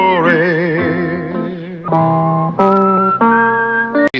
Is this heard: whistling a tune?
yes